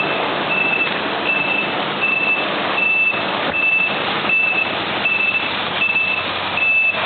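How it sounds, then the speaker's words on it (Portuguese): A snow-clearing tractor backs up with a regular electronic reversing beep, about nine evenly spaced tones over a loud, steady engine and scraping rumble, heard up close with no talk. "Ó o trator, o carro raspando neve, ó."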